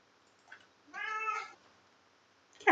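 A single clear meow from a cat in The Sims 4, a short tonal cry lasting about half a second in a quiet setting, with faint clicks before it and a sharp sound at the end.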